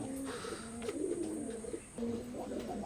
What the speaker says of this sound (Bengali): স্ক্রিনে এখন যে কবুতর জোড়া দেখতে পারতেছেন মাশাআল্লাহ ওমান ব্লাড লাইনের কবুতর